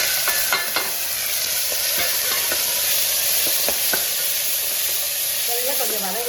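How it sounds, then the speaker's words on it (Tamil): Onion and tomato sautéing together in a pan give a steady, close sizzle, with a few light clinks and scrapes of stirring scattered through it. "வெங்காயம் தக்காளி எல்லாம் ஒட்டுக்கா போடுவோம்"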